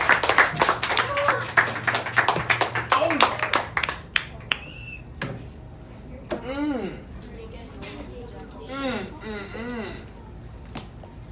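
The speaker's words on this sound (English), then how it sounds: "Let's give Rafi a big round of applause" Applause at a public speaking school breaks out for Rafi after his talk: about four seconds of dense, close clapping that fades, followed by speech and scattered light taps and clatter.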